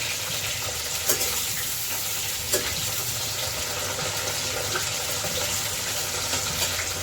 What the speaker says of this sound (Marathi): या ठिकाणी आपल्याला दहा मिनिटं हे तेला तळून घ्यायचे